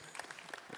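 Brief burst of audience clapping at a conference on social services reform, a dense patter of many hands heard at a moderate distance.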